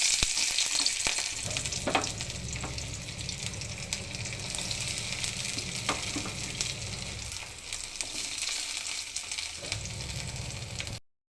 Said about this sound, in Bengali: পেঁয়াজ কুচিগুলো ছেড়ে দিচ্ছি।